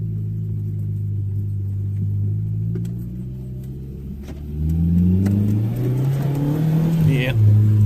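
Audi B5 engine running in limp mode with low boost revs up in rising, droning swells, close and loud, while people talk over it.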